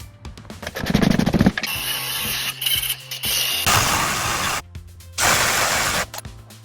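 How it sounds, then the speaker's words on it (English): A 15-year-old Volkswagen Vento's air suspension compressor runs close by with a steady mechanical whir and rattle that shifts in pitch and loudness in several stages, without any talking. "the cables from the pressure sensor switch back to the compressor. I think we should be able to turn it on."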